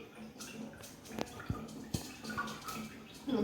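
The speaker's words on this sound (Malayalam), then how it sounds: "അപ്പോൾ നമ്മുടെ അരി കഴുകി" Basmati rice is washed by hand in a bowl of clean water. Soft sloshing and trickling sounds come with a few small drips and splashes, quiet and close, with no talking.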